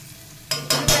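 Brinjal and boiled drumstick cook in a pan, heard as three quick stirring scrapes over a rising sizzle, each burst louder than the last within about a second.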